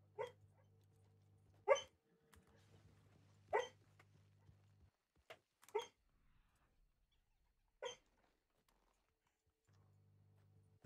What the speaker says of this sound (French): Cochon, n'ayez pas peur, c'est mon chien qui rêve.